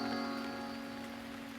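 Steady rain falling on a surface, a dense continuous patter at an even level, with a faint tonal hum underneath and no voices.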